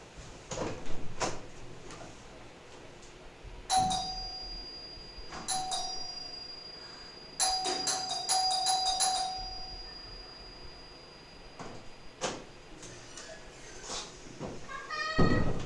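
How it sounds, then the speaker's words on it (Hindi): A doorbell rings again and again indoors, several separate bursts of quick chimes spaced across a quiet room, with faint clunks and household noises between them. "doorbell tin tin tin tin tin tin वो बजाती रहती जब तक ओपन ना करो"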